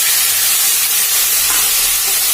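A ground paste of cumin, ginger and green chilli hits hot oil in a pan, giving a loud, steady, close sizzle with a bright hiss throughout and a few faint stirring scrapes, no voices.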